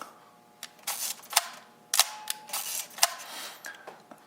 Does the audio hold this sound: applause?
no